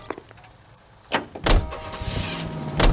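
In the video game L.A. Noire, a car door thunks shut and a motor starts up and pulls away, with a brief whir and a second door-like knock near the end, close and fairly loud with no talk.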